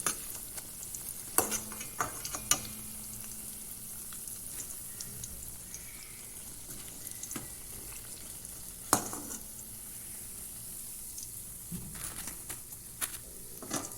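Bhalle (lentil fritters) frying in hot oil, a steady soft sizzle running throughout with occasional sharper crackles and light clinks of a utensil.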